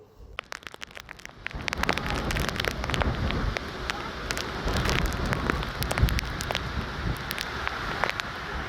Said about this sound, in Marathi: महाबळेश्वरमध्ये गेल्या काही दिवसांपासून धुवाधार पाऊस सुरू असल्यामुळे